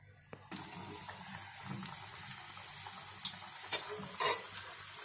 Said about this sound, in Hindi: अब हम इन्हें तल लेंगे।